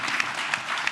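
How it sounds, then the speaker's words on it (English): A crowd claps loudly for the National Guard, a brief burst of dense, even applause with a few sharper individual claps standing out. "How about a big round of applause for our National Guard?"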